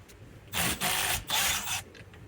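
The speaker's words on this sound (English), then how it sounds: "works really nice if you can use an impact on it" Impact wrench spinning out the triple-square steering wheel bolt on an Audi Q7 (2006-2015), heard as three quick rattling bursts close up in a quiet garage, with short pauses between them.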